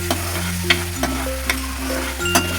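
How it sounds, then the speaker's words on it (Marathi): Ginger-garlic masala frying in a pan, a steady close sizzle with a low hum beneath and a few sharp clicks of a spoon stirring now and then. "चांगलं भाजलं पाहिजे व्यवस्थित।"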